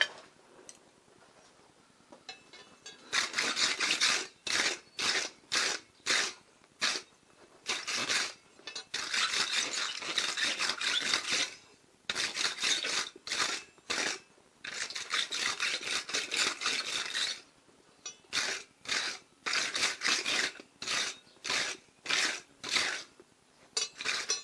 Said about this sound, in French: Donc maintenant, un coup de brosse.